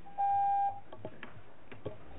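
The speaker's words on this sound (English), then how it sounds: "We got a new buzzer. We haven't had that before, have we?" A single steady electronic buzzer tone sounds for about half a second in a council planning committee meeting room, loud against the faint room murmur that follows.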